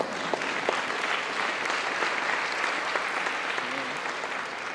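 Audience applause fills a civic State of the City address in Stockton, a steady dense clapping from a large crowd that holds at even loudness throughout without a break.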